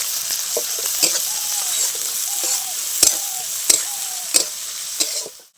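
Chopped onion with green chili lightly frying in a pan for a radish paratha filling, a steady close sizzle broken by sharp clinks and scrapes of stirring.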